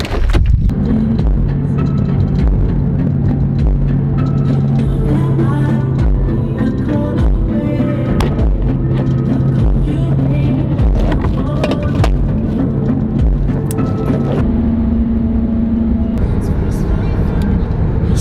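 Steady road drone of a mom's car on the way to the gym, a constant low rumble with a faint hum throughout, as if heard from inside the cabin, with talk on top of it.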